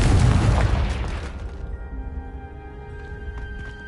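A Confringo blasting spell goes off in Hogwarts Legacy, one loud booming explosion that decays into a ringing, shimmering tail with no talk.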